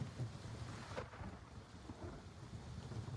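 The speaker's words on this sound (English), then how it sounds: "I love the storms in this game though." Storm ambience in the Gray Zone Warfare video game: steady rain hiss beneath a low, rolling rumble of thunder, continuous and moderately loud with no voices.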